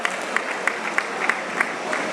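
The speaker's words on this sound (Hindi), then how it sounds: "तालियां बजाइए इस बात पर" Scattered audience applause at a cultural celebration event in India, a steady wash of hand claps with faint crowd murmur, several sharper claps standing out at a fairly even pace.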